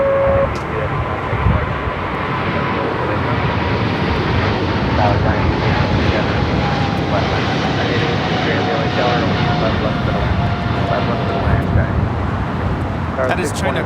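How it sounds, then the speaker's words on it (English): A China Cargo Airlines Boeing 777 freighter takes off from runway 25 left at Los Angeles International, a loud, steady jet engine roar filling the whole stretch with a commentator's voice talking over it. "That is China Cargo Airlines 222 taking off to Shanghai on a 777 freighter"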